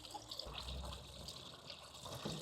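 Liquid fertilizer solution is poured from a 2-gallon container over a garden plant, a steady, soft splashing trickle that runs continuously without a break.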